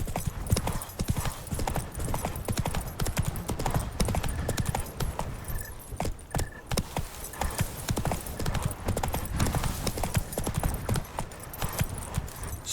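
A horse galloping in The Witcher 3 video game, steady rapid hoofbeats close and loud throughout, with a brief call to the horse.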